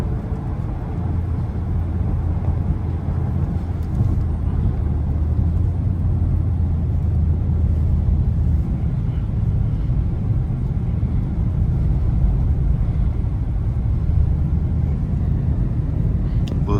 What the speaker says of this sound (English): Range Rover SVR versus the snow